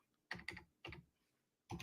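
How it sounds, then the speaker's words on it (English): Quick bursts of computer keyboard typing, a few clustered keystroke flurries separated by short pauses, close and fairly quiet with no talking. "yeah, you see me typing it"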